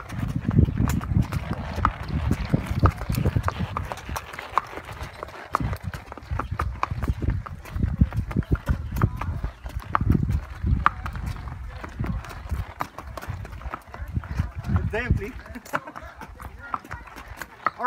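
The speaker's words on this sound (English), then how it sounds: "Yalla, horse riding." Horse hooves clip-clop steadily during a horse ride in Entebbe, Uganda, a continuous uneven trotting rhythm mixed with background voices and outdoor noise.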